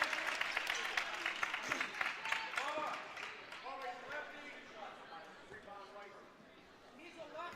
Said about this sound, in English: Barrett, it's a nice round of applause as he sits down.